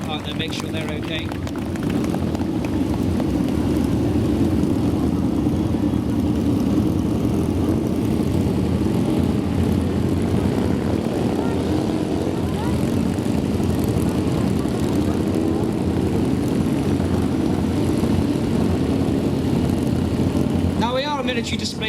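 Engines of the British Army's last motorcycle display team drone steadily as the riders make another pass in an outdoor arena show, a sustained mid-distance rumble lasting the whole stretch, with someone speaking over it.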